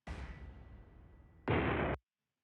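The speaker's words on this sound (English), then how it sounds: "the second one you hear, the kind of gunshot" A punchy gunshot-style impact sample from an electronic music track. It comes as a sharp, dense half-second burst that cuts off cleanly, after a softer decaying hit.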